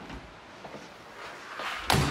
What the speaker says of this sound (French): Allez, je ferme la porte.